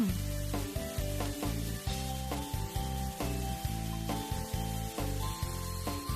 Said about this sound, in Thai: ผัดส่วนผสมให้เข้ากัน